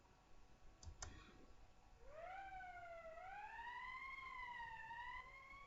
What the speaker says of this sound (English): That's the emergency siren.